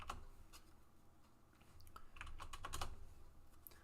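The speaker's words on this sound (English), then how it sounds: "I'm hoping that the keyboard isn't too loud." Someone types on a computer keyboard while logging Topps Stadium Club trading cards. The keystrokes come as faint, scattered clicks in short irregular bursts over a quiet room.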